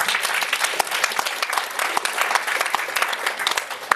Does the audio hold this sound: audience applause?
yes